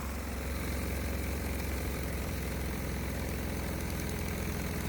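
Diesel engine running rough on a garbage fuel mixture of waste oils under light load, a continuous low knocking rumble with steady vibration, close and unbroken.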